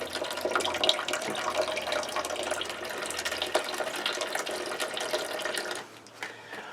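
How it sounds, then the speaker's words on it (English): Water draining from an opened hose bibb valve into a bucket, a steady splashing flow like a running tap, close and continuous before easing off near the end. "We're going to open up the valve and let all the water come out of it."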